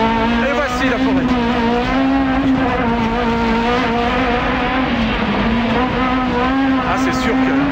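A Renault Clio Maxi rally car driven fast on a forest rally stage gives a loud, steady engine drone with shifting pitch throughout, and a voice talks over it.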